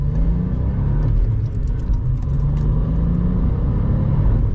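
A VW Up GTI with a 1.0 TSI engine and 6-speed manual accelerating on the road at night, its engine note rising in pitch over a loud, steady rumble heard from inside the cabin.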